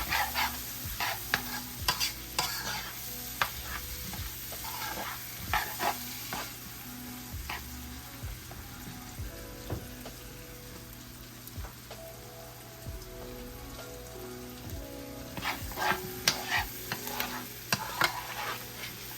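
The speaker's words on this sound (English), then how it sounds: "we'll cook these onions and peppers until they're tender" Onions and green peppers fry in chicken drippings in a pan, a steady close sizzle and crackle broken by frequent stirring clicks and scrapes of a utensil. No one speaks.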